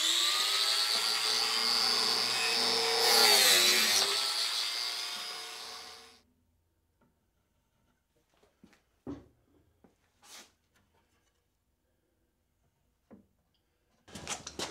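Biscuit joiner cutting slots in wood for a bathroom vanity cabinet, one loud high whining cut lasting about six seconds, then near silence broken by scattered knocks and handling clatter from the workpiece.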